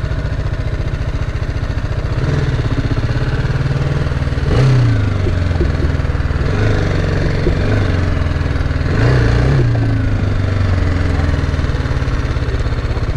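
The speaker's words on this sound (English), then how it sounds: "try to check out the performance of the bike" A small BMW motorcycle engine runs steadily during a test ride at a showcase event in Guwahati, with a continuous low drone that rises in two brief revs partway through.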